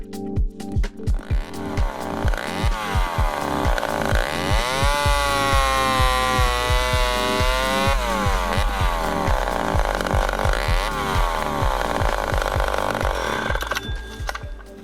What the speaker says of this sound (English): The handy chainsaw will also be well-suited for just normal log cutting on the ground.